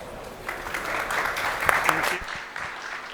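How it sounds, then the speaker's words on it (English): A round of audience applause for a conference panel on connectivity, clapping that swells from a quieter start, holds steady with a few sharper claps, then fades near the end. "Please give them a round of applause."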